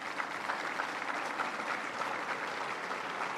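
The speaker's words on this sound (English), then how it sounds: "Give yourselves a round of applause." A crowd applauds at a Council Bluffs rally for the vice president, a steady, dense wash of clapping that holds at an even level with no voices standing out.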